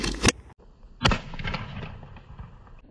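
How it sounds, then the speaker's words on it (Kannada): A homemade bottle gun fires two sharp, loud blasts about a second apart; the second bang trails off into a rushing hiss. "ಇವಾಗ ನೋಡಿದ್ರಲ್ಲ ಫ್ರೆಂಡ್ಸ್, ಈ ತರ ಬ್ಲಾಸ್ಟ್ ಆಕೈತಿದೆ"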